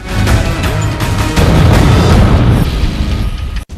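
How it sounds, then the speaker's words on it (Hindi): A loud, rumbling blast from a Hellfire missile strike, with a sustained roar and crackling debris, dense low end throughout, ending in a sudden cutoff. "कासिम को भी हेलफायर मिसाइल से निशाना बनाया गया था,"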